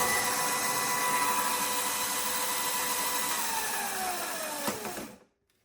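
An overvolted Razor MX350 electric motor on a 36V kit runs at full throttle with a loud, steady high-pitched whine, then spins down and cuts out abruptly.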